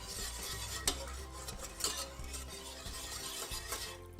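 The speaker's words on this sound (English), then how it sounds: "as you're whisking it, it's going to thicken kind of as you go" A whisk works through a thick sauce for sausage moussaka, giving a steady soft stirring churn with a few sharper metallic clinks against the pot, close and moderately quiet.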